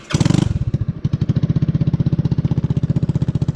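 A straight-piped 150cc Chinese scooter engine starts after a short whirring crank, then runs close and loud with a fast, even, popping exhaust beat that rises slightly as it revs.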